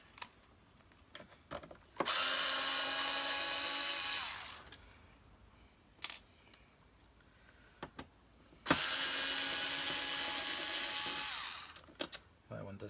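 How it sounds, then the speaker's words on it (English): A power screwdriver backing screws out of a 1982 Moulinex Major upright vacuum, in two sustained whirring bursts of a few seconds each, separated by clicks and handling noises, close by with brief talk in the gaps. "let's get the screws out while we're here"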